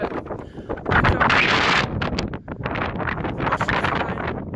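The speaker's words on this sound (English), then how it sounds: "It's a little windy" Strong wind on the Pacific Crest Trail buffets the microphone in loud, continuous gusts, roaring broadband with brief dips between bursts.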